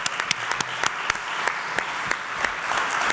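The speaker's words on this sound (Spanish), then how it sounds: "un aplauso a las brujas, como ideólogas de la convención" Audience at a women's rights protection workshop applauding, steady dense clapping with sharper individual claps popping out, moderately loud and continuous.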